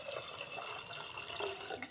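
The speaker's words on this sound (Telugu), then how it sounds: "ఆ వాటర్ని పోసేద్దాము." Tamarind water is poured into a cooking pot while making coconut pulusu, a faint, continuous trickling splash of liquid at close range with no voices.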